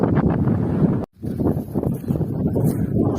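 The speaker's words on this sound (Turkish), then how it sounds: "Çok rüzgar var abi. Yol üstünde kayıt alamıyorum." Heavy wind buffets the microphone with a constant low roar and rumble, briefly dropping out once before resuming.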